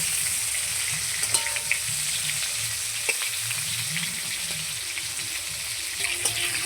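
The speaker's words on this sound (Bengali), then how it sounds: "এই দেখুন পটলটা কত সুন্দর করে আমি লাল লাল করে ভেজে নিচ্ছি" Steady oil sizzle of pointed gourd frying in a pan, with occasional light clinks and stirring scrapes, close and continuous with no talking.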